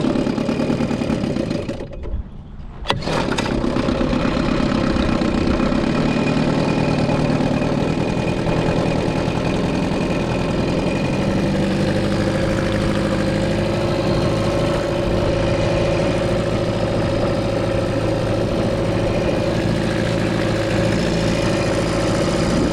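A 14 ft boat's outboard engine runs at a steady idle after a short start, a continuous mid-pitched motor drone that holds close and loud throughout.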